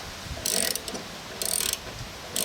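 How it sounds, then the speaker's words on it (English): A ratchet with a 13 socket loosens the blade bolts on a Honda HRR2167VXA lawn mower: three short bursts of quick metallic ratcheting clicks, close and fairly quiet, separated by brief pauses. "I found a size 13 socket. So we're just gonna get this blade off."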